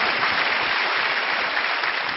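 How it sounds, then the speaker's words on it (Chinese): Studio audience applause on a Chinese job-hunting TV show, dense continuous clapping held at an even, loud level throughout with no voices over it. "啊，给你掌声。"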